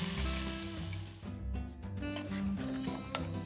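Peanut sauce with pasta-cooking water bubbling and sizzling in a frying pan, a soft continuous crackle with wet squishy stirring noises, close and quiet.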